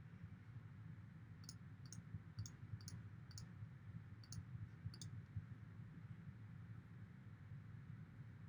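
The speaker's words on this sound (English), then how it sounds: "I'm clicking on connect" Computer mouse clicks at a desk, a quick series of about seven sharp, faint clicks over a few seconds against a low steady hum of room or computer noise.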